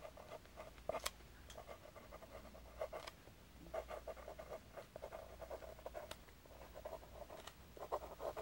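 A pen scratching out a sentence on paper during a mental status exam, with soft, close strokes and light taps at an uneven rhythm over a quiet room.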